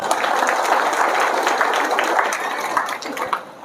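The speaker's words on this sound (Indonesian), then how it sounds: "Tepuk tangan dulu." Audience applause during a religious talk in Indonesia, a steady dense wash of clapping from a crowd that holds throughout and thins slightly near the end.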